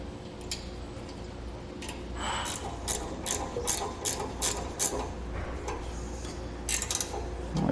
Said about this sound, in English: We're going to stick our bolt through our spring and then tighten that down.